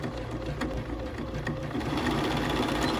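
A BERNINA 570, 590 or 790 sewing machine stitches decorative patterns in a close, steady, fast mechanical whir with a rapid rhythmic needle patter and no talk.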